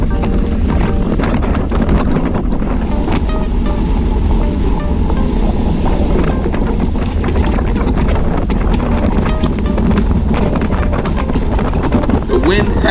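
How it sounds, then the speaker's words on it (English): Steady, loud wind roar buffeting the microphone during a fast group road-bike ride uphill, continuous throughout, with a voice speaking faintly beneath it. "Wind has picked up"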